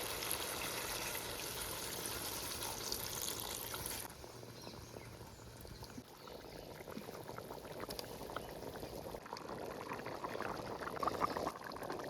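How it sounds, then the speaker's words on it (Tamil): Water pours and bubbles into a simmering pot of cooking chicken, a soft steady splashing that shifts midway into quieter gurgling and bubbling, close but low in level. "சிக்கன் நல்லா வேக தண்ணி ஊற்றிக்கலாம்."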